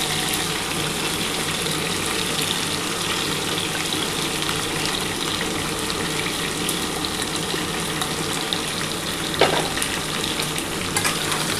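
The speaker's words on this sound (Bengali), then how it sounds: "সমস্ত সবজি কিন্তু একসাথে এবার ভাজবো।" Mixed vegetables with yardlong beans fry in a pan for a Bengali shukto, giving a continuous dense sizzle with occasional stirring clinks throughout, close and steady with no speech.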